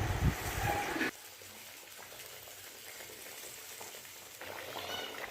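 A fish curry with spices simmers after hot water is added, a loud sizzle and gush at first dropping to a soft steady bubbling hiss, then swelling again near the end.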